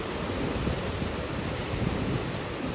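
Ocean waves washing onto the shore at Bondi Beach in Sydney form a continuous, roaring broadband wash mixed with wind buffeting the microphone, loud and close without voices.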